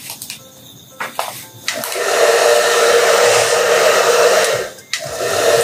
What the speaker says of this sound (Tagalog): Tapos na tayo mag-blower.